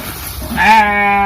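A sheep gives one loud, close, wavering bleat in a rural village, the nasal cry starting abruptly and trailing off.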